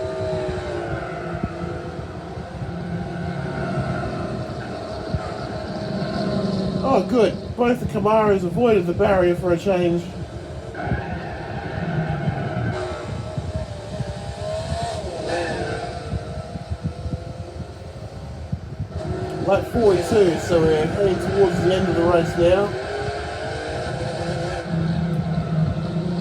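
Race car engines in Gran Turismo 4, including a TBR Speed 12, Camaros and a Corvette, drone steadily throughout with shifting revs, heard beneath a man's near-constant commentary.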